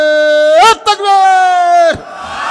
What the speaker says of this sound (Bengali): সবাই একটু তাকবীর দেন তো, গলা খাগারি দিয়া